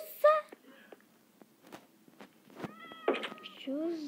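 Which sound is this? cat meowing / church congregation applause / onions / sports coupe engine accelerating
cat meowing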